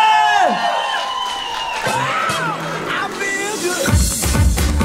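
Crowd at a Kazakh wedding celebration in Karaganda cheering and whooping loudly, with babble and shouts filling the whole stretch and a surge of noise near the end; a voice speaks over the start.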